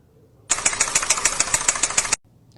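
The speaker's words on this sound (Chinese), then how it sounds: "敲缸一响" A Korean car engine with a knocking fault, a rapid, loud metallic tapping in an even rhythm lasting under two seconds, starting and stopping abruptly.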